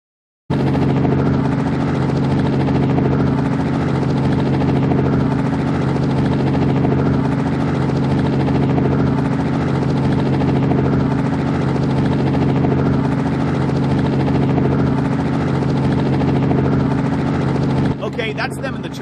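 A helicopter flies in an open-world gangster crime video game, its loud, steady rotor drone and engine hum holding for about seventeen seconds before cutting off abruptly near the end.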